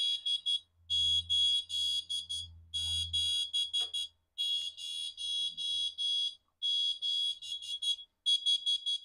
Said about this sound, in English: It was very tinny, and that's probably to be expected if you're using one of these piezoelectric buzzers.